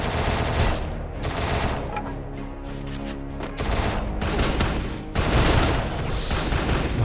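Rapid gunfire from the Free Fire video game, played on the Indian server in a solo versus squad match, rattles in loud sustained bursts with brief gaps between them, close and dense throughout.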